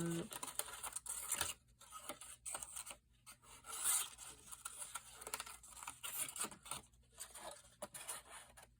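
Scissors snipping paper for a zentangle drawing, quiet close-up cutting and rasping in short irregular bursts with brief pauses between cuts, faint and without talk.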